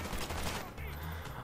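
Shotgun fire in the Call of Duty Black Ops video game comes as a dense, loud burst of gunfire lasting just over a second.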